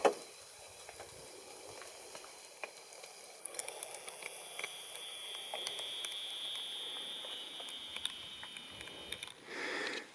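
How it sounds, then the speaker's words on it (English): Light rain in Alaska patters softly and steadily on surfaces outdoors, a faint continuous hiss with scattered drips growing slightly denser partway through, no one speaking. "And the rain is here."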